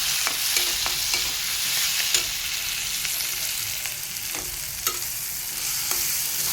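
Onion-garlic masala and coriander powder being stirred in an oily frying pan for a dried fish and potato dish, with a constant sizzle broken by scattered sharp scrapes and clinks of the spoon.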